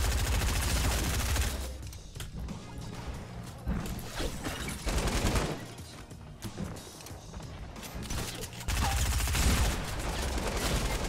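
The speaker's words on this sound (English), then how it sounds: "Got so lucky with those shots" Rapid bursts of gunfire in a Fortnite battle royale fight crackle loudly in clusters, with brief pauses between volleys and mechanical game noises in the gaps.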